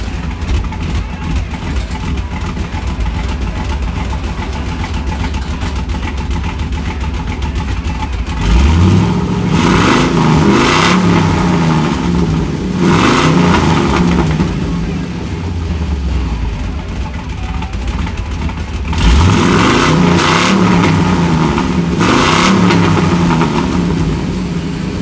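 A 6.0 LS V8 engine with no exhaust idles with a loud, raw rumble, revving up twice to a rough roar before settling back to a steady idle.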